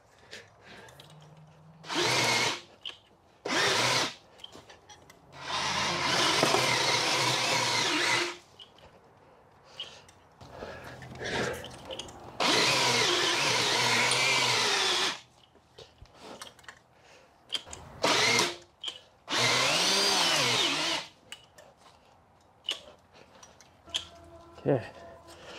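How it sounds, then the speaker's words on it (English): An old cordless drill with aging batteries whirs in several separate bursts of a few seconds each while planting in a greenhouse on a homestead, with quieter gaps and occasional talk between runs. "it's the drill's problem here because it's an older drill"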